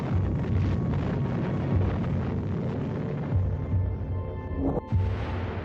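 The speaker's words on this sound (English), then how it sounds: "The atom bomb is dropped anyway." An atom bomb explosion heard as a sustained, heavy roaring rumble that fills the whole stretch, with a sharper burst near the end and no speech.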